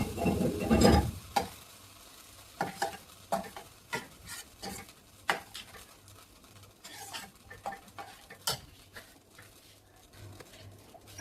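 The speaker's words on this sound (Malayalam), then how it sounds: "ഇതിലെ കടുക്, ചെറിയുള്ളി, പിന്നെ വറ്റൽമുളക്, കറിവേപ്പില ഇങ്ങനെയുള്ള വറവാണ് അതിലേക്ക് ഇടാം" Mustard seeds, shallots, dried chillies and curry leaves tempering in hot oil for Kerala-style butter kappa: a loud initial sizzle burst, then intermittent stirring clicks and pan scrapes with a faint steady crackle underneath.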